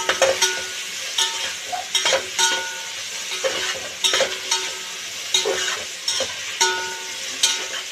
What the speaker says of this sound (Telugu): జర మంచిగా వేయించుకోవాలి